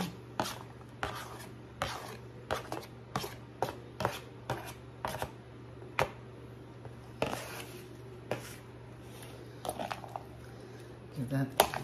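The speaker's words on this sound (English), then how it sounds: "Then I cut up a half of a small onion." A knife chopping half a small onion on a cutting board for pea salad, a series of irregular close taps and thuds with faint talk and a low steady hum behind.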